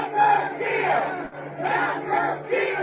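A rioting crowd massed on the east side of the Capitol roars and shouts in surging waves, loud and dense, with no single voice standing out.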